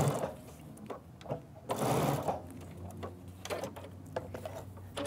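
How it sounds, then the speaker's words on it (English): A sewing machine with a Teflon foot stitches Kimberbell leather in quick, uneven bursts of mechanical whirring, with a louder run near the middle and short pauses between passes. "Judy, the reason Kris can sew so quickly is because she's got that Teflon foot on."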